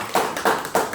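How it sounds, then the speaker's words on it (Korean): Church congregation claps in unison during a Sunday service, three firm, evenly spaced collective claps in quick succession, close and fairly loud. "하나님께 감사와 찬양의 박수를 한번 올려드리겠습니다."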